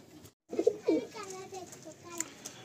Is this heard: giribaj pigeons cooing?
yes